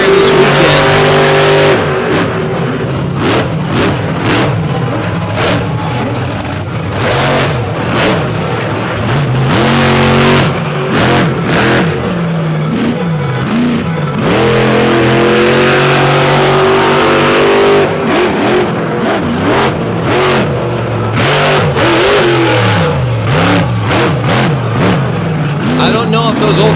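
Race car engines at an All Stars event at Lake Erie rev and roar as the cars pass, with repeated loud surges and pitch sweeps. A commentator talks over them throughout.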